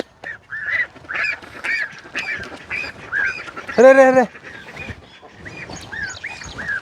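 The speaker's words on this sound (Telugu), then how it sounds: "భలే బాతున్నాయా" Ducks of a swan-like breed in a garden quack in a quick series of nasal calls, with one louder, drawn-out honk midway, while a person calls out to them.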